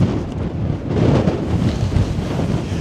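Strong gusting wind buffets the microphone on a high mountain ridge in Glencoe, Scotland, a steady loud roar with no voices.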